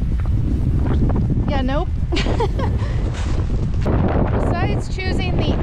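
Loud, constant wind roars and buffets the microphone behind a natural windbreak in Central Oregon, with people talking briefly over the blustery noise.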